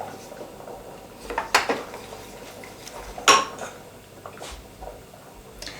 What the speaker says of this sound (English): you need to constantly stir it, otherwise it will stick to the pan